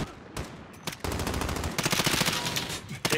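Rapid automatic gunfire from the Modern Warfare (2019) video game rattles in dense, loud bursts, sharpening into fast repeated cracks toward the end, with no voices.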